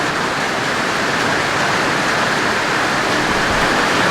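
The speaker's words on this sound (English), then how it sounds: "That rain is coming down" Rain comes down hard and steady outdoors, a loud, even broadband hiss with no voices, heard during a Volkswagen Super Beetle oil change.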